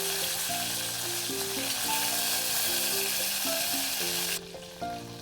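Tamarind juice hits a hot tempering of garlic and dried red chillies for spinach (palak) sambar, giving a steady, loud sizzle that carries on under background music.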